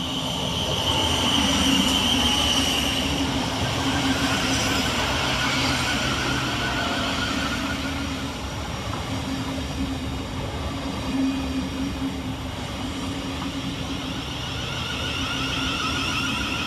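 A Thameslink Class 700 electric train pulls into Burgess Hill station on a Brighton to Cambridge service, a steady loud rumble of wheels and traction motors with faint whining tones, fading slightly as it slows alongside the platform.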